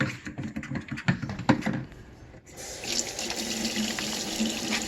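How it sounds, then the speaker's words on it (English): A kitchen tap runs steadily into a sink as hands wash under it, with splashing at first, then a smoother, fuller rush of water, close by and with no talking. "so I've got to wash my hands"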